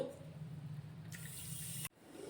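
Water pours steadily into a bowl of sugar to make syrup for balushahi, a soft continuous trickle that brightens in tone partway through and then stops abruptly.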